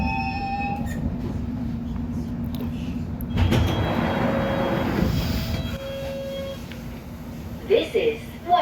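A London Underground Hammersmith and City line train pulls into Whitechapel station with a steady low rumble and wheel noise that swells midway. Onboard chimes and a brief voice sound near the end.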